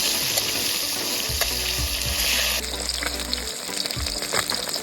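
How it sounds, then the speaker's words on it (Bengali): Five koi fish fry in a wok outdoors, a steady close sizzle of hot oil with bursts of spattering and a brief watery gush partway through. "আমি কই মাছগুলো আগে ভেজে নিচ্ছি"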